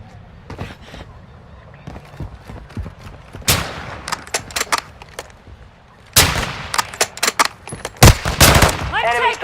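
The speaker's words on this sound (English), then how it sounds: "Taking effective fire!" Rapid bursts of gunfire from the shooter game Warzone 2 crack out in uneven volleys, some near and loud with short silent gaps, and a distant game voice is faintly heard at one point.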